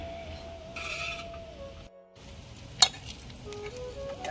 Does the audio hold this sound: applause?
no